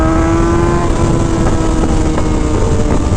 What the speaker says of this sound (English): Do you guys like the high-pitched noise of the ZX-6R, like that traditional sport bike sound?